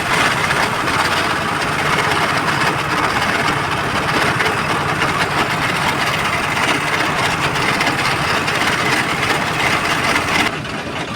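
Trawler boat engine crossing a river near Barishal, a steady loud droning rumble that runs unbroken for the whole stretch and only eases slightly at the very end.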